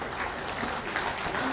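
An audience at an appointment-letter ceremony gives steady, dense applause. The clapping holds close and even for the whole short span.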